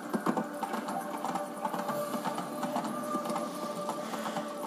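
Roach, the horse in The Witcher 3, trots along with a steady, rapid clip-clop of hooves, moderately close, mixed with ambient game sound.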